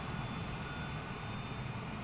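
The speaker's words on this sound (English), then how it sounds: "listening to the engine start from the outside, because it's just kind of like a, I don't know, a generic jet sound" A generic jet engine in Microsoft Flight Simulator, heard from outside the aircraft, produces a steady, dense whooshing roar with a constant high whine that holds evenly throughout.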